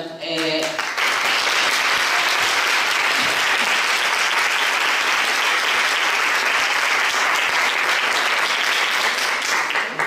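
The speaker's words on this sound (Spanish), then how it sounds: "este aplauso yo lo iba a pedir para hablar, ahora le vamos a volver a aplaudir" A conference audience breaks into sustained, dense applause that starts abruptly and stays loud and even for about ten seconds, many hands clapping together in a large hall.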